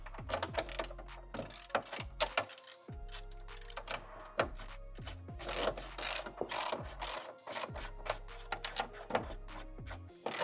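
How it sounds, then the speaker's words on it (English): A 13mm wrench ratchets on the hood bolts of a Ford Bronco, giving repeated bursts of clicking turns separated by short pauses and faint handling noise, with no voices. "This takes a 13mm wrench and a friend, so we're gonna go ahead and remove this old hood."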